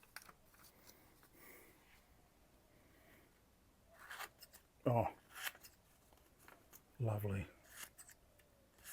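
Freshly sharpened scissors cutting paper, two short crisp snipping bursts close by after a quiet stretch, with a brief spoken remark nearby.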